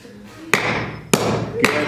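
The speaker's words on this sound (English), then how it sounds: "going to hammer in that nail" A hammer drives in a nail with three sharp, loud strikes spaced roughly evenly, each a crisp impact followed by a short ringing decay, with a quiet room in between.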